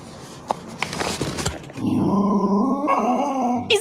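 A dog whimpers and whines in a long, wavering, pitched cry, close by, with a few soft breathy sounds before it.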